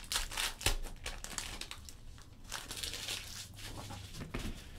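Black Friday basketball card packs torn open by hand, a close run of crinkling foil and paper rips, with crumpling bursts rising and falling over several seconds and no voices.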